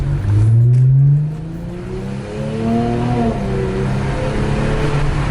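Infiniti Q50 with K&N intakes revving hard, a loud rising engine note that falls away then builds again with a turbo whoosh, no talk over it.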